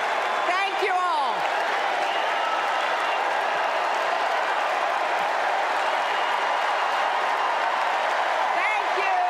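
Crowd at a Hillary Clinton rally keeps up loud, continuous cheering and applause, a dense unbroken roar with a few whistles near the start and end.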